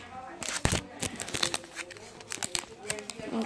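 A chicken noodle packet being cut open with scissors in a home kitchen, giving close crinkling plastic and sharp snips in short irregular bursts, with a person talking over it.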